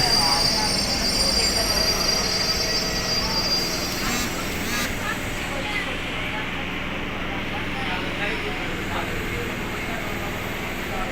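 A Chennai suburban train runs between Beach, Fort and Velachery, with a steady loud rumble of wheels on rails, intermittent squealing and rattling carriages heard from on board, with voices present.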